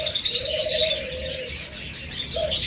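A pair of cockatiels gives repeated chirping calls, clear and fairly close, over a low background murmur.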